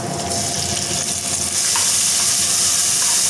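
Chopped onions and tomatoes sauté in a hot pan with a loud, steady sizzle that runs without a break, close up and with no talking.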